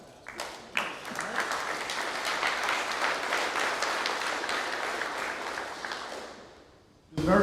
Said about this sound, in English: How about you give your parents a round of applause for your Scout?